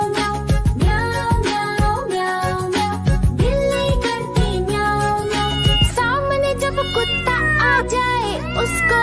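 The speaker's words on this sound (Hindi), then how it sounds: "बिल्ली करती म्याऊं म्याऊं" A children's Hindi nursery rhyme in which a cat meows over bright music, with repeated sung meow-like calls woven through a steady, loud melody.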